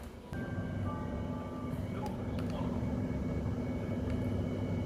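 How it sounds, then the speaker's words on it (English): A rapid transit train near Wilson station on the red line passes as a steady loud rumble and rolling roar, with faint squeals and a passing tonal hum throughout. "There's a little train action for you."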